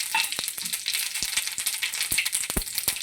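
Onion frying in oil with bay leaf and dried chillies, a steady close crackling sizzle broken by sharp pops and spatters throughout, with no voices.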